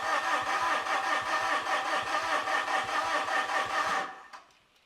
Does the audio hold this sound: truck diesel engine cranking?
yes